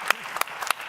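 Audience applause at a tech talk: a brief, moderately distant patter of hand claps from a crowd, with a few sharper individual claps standing out over a soft background wash.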